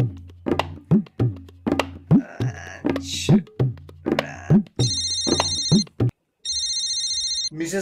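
A telephone rings with an electronic ringtone in two sustained bursts near the end, after a run of rhythmic thumping beats.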